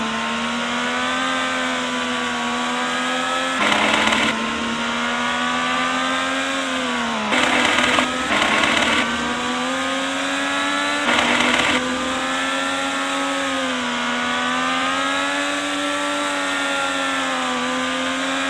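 IndyCar race car engines in a video game, battling for the lead at the GoPro Grand Prix of Monterey: a sustained high, buzzing engine whine that rises and dips in pitch, broken by a few short rasping bursts, with no talk.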